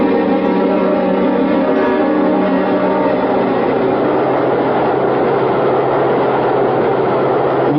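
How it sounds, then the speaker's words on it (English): A subway train arriving, performed as a radio drama sound effect: a loud, continuous heavy rumble of wheels and engine with a rising rattle that fills the whole stretch. "Come on, we're at the subway."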